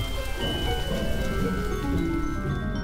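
Steady rain falls in a dense, continuous patter on surfaces, loud and close throughout with no voices.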